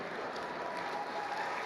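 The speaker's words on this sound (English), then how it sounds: "That gets applause." An audience at the Intel ISEF 2014 opening ceremony applauds, a soft, even wash of distant clapping lasting under two seconds with no voices over it.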